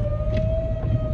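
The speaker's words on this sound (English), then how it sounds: "Tornado sirens." Tornado sirens in Oklahoma give a steady, sustained wail at a distance under a low rumble of wind or a moving vehicle.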